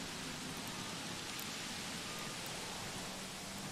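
Rain falls in the dinosaur park of the Jurassic World: Evolution video game, a soft, steady, faint hiss that stays even throughout with no voices.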